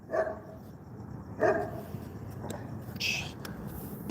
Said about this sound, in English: Dog scared the shit out of me.